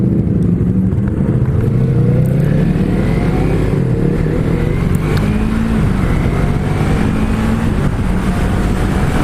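A 2018 Yamaha MT03 motorcycle engine rises and falls through the revs while riding, with shifts through the gears; loud, steady and close, with no talking.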